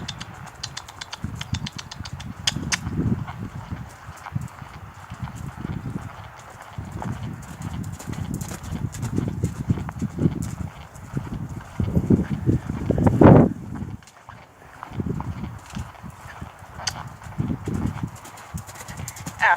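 A horse cantering, rhythmic muffled three-beat hoofbeats on soft ground passing at moderate distance, repeating steadily with some louder thuds midway.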